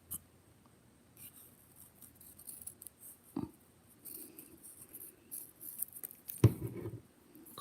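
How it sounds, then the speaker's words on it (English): Scissors snip off the loose thread ends of a sewn fabric label, giving a few quiet, scattered cuts with one sharper snip near the end and soft handling rustle between them. "cut it off."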